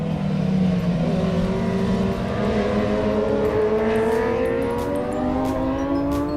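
Big racing motorcycles at a CMRA round head out onto the track, engines droning loudly and steadily with rising and falling revs as several bikes pull away together, continuous throughout.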